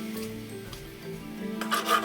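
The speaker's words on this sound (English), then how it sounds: "Chipping away, bit by bit, trying to get it to fit." Old timber from the frame of a 300-year-old Suffolk farmhouse being chipped away bit by bit to fit, heard as soft, scraping rasps that grow louder and sharper toward the end, with no talk.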